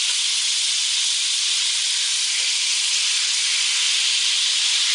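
Butter melts and sizzles in a hot pan with a steady, even hiss that stays loud and unbroken throughout, with no voices.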